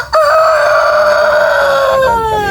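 A rooster in a backyard poultry area crows one long, loud, close cock-a-doodle-doo that falls in pitch at the end.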